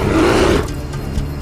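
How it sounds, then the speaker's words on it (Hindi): A bear roars loudly and close, a heavy growling burst in the first half second that fades into a lower rumbling tail, heard alone in an outdoor setting. "ये तो भालू की आवाज है।"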